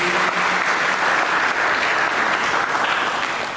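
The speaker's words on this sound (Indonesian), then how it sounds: "Mari kita berikan tepuk tangan bagi Yesus." A church congregation claps loudly and continuously, a dense wash of applause lasting a few seconds before beginning to fade.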